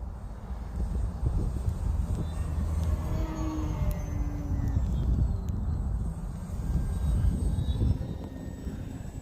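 A small model propeller plane, an OMP Challenger, drones steadily throughout, rising and falling slightly in pitch as it maneuvers overhead against outdoor background noise.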